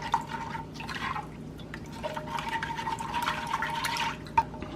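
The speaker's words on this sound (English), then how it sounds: "And just stir it up a little bit," Broth for a pot roast stew being stirred with Better Than Bouillon mixed in, giving soft liquid sloshes and drips with a faint steady background hum, no talking.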